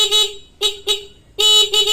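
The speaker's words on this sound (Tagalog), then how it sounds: "busina." A car horn under restoration sounds in short honks: one long blast, a pair of quick toots, then another long blast and a short one, loud and close with nothing else audible.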